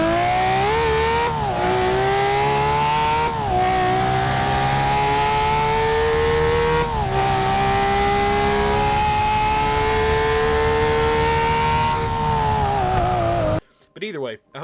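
A JDM car engine in the Forza Horizon racing game revs hard and steadily, with several quick dips as gears shift, loud and close, before cutting off abruptly near the end.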